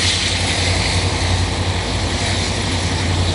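A CN train locomotive's diesel engine in the rain gives a loud, steady rumble with a low droning hum beneath a wash of broad hissing noise, continuous and unbroken throughout.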